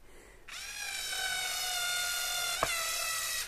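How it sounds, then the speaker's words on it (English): A Black & Decker electric screwdriver drives a screw into a cheap under-desk keyboard tray, a steady high motor whine running for about three seconds with one sharp click partway through. "This is a lovely screwdriver, by the way. It's from Black & Decker."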